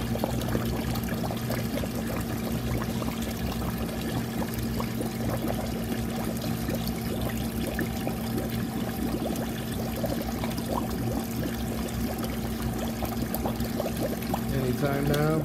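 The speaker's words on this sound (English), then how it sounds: "I'll turn that on, get water flowing." Water pours steadily into a compost tea brewer with a constant dense rush and a low pump-like hum, continuous and close throughout, with no speech over it.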